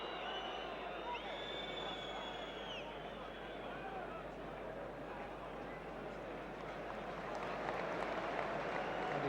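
Rugby Union stadium crowd at an Australia v Ireland match in 1984, a broad sustained roar of whistling and jeering at a referee's decision, heard from a distance and lasting throughout under a commentator's voice.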